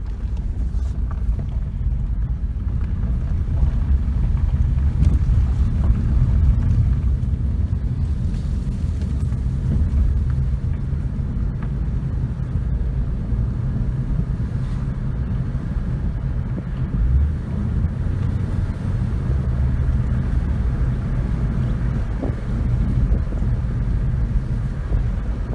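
A Ford Focus driving down a road, with a steady, loud low rumble of engine and road noise and some wind buffeting that holds level for the whole stretch, with no talk.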